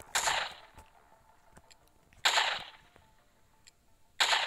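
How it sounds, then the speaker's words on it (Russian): Gunfire from the Roblox game Toilet Tower Defense comes as three loud, sharp shot bursts about two seconds apart. Each burst has a short ringing tail, and small clicks sit between them. "Он просто стреляет во всех."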